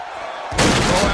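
A wrestling arena crowd in the WWE 2K16 video game surges into a loud, dense roar about halfway through, replacing a quieter murmur and holding steady to the end.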